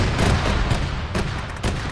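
A grenade explosion in the military shooter Arma, played with the ShackTac group, rumbles as a loud, close burst with dense low booms and crackling gunfire-like echoes rolling on for under two seconds.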